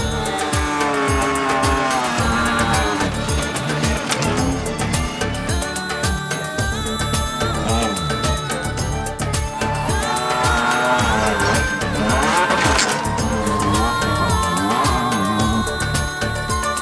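Mitsubishi Pajero Montero Dakar rally car from 2003 working hard through desert dunes, its engine loud and close and continuous across the whole stretch with shifting revs and a strained, rumbling drive.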